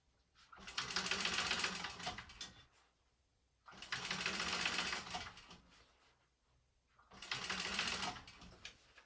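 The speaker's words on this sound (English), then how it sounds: "I'm going to top stitch all the way around back to the beginning." A sewing machine top-stitching around a fabric clutch bag runs in three steady buzzing bursts of about two seconds each, separated by short quiet pauses, close and clear with no talking.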